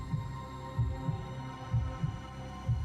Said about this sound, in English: my heart pounding in my chest